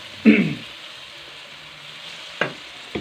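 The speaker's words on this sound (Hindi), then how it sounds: "इसके साथ ही मैंने प्याज शामिल करने हैं ग्रीन वाले ताकि ये भी फ्राई हो जाए।" Green onions fry in a pan as a spoon stirs them, a soft close sizzle broken by a few sharp scraping strokes.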